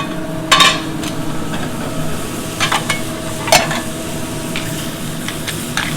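Shrimp and other seafood sear in a hot pan for a spicy Fra Diavolo with red pepper flakes, giving a steady close sizzle broken by a few sharp utensil clicks and scrapes.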